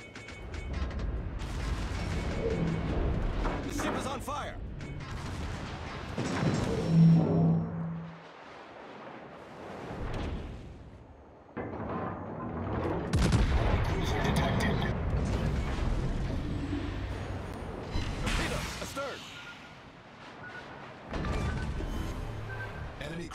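Heavy naval gun salvos from the Mecklenburg in World of Warships, booming in several loud rumbling bursts with mechanical clatter and game voice announcements between them.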